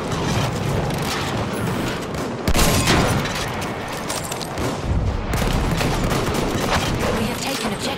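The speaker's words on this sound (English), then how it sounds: "Watch the fortress gun!" Fortress gun fire in the Battlefield 1 video game, a heavy boom landing partway through a dense din of battle, with scattered gunfire and voices in the mix.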